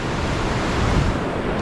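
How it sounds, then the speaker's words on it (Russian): Rough ocean waves break on a beach, a continuous loud hiss and roar of surf with wind buffeting the microphone, and no talk. "Как видите, сегодня океан не такой спокойный. Есть волна."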